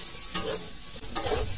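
Ginger-cumin paste fries in a pan while being stirred for a green banana vegetable dish, with a soft continuous sizzle and two distinct scraping stir strokes, quiet and close, with no talking.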